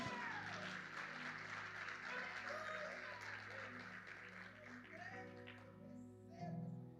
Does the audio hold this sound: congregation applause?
yes